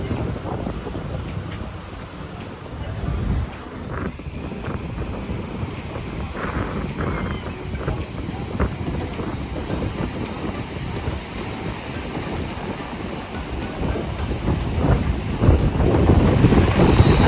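Breezy wind gusting across a Florida beach buffets the microphone as a steady roar, with surf washing underneath, loud and continuous throughout without talk.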